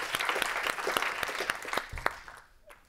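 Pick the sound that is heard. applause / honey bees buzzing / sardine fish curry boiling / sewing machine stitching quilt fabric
applause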